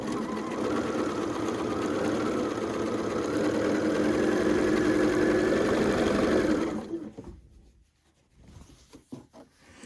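A sewing machine stitches quilt pieces for a queen-size pinwheel quilt, a close, steady whirring drone running for about seven seconds before stopping, followed by soft handling sounds of fabric.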